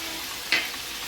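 Turmeric powder and garlic-ginger juice sizzling in a frying pan for Kolkata-style mutton biryani, a soft steady fry with one brief brighter hiss midway.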